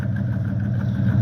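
A crossover car's engine idles with exhaust running after freezing rain, a steady low rumble heard close and continuous with no voices over it.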